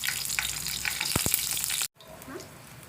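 Cumin and mustard seeds frying in hot oil, a steady bright sizzle that runs loud and close, then cuts off abruptly and returns much quieter with faint crackles.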